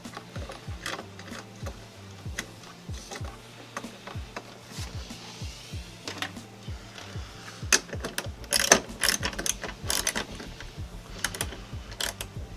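Ratcheting 10mm socket wrench tightening a tail light bolt on a Mitsubishi Eclipse, a close run of rapid clicking strokes in bursts, growing busier and louder toward the end.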